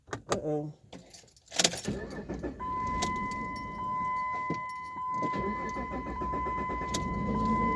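Keys jangle and a car engine starts, then idles steadily with a constant hum and faint dashboard chime tones, close by, with a voice speaking briefly at the start.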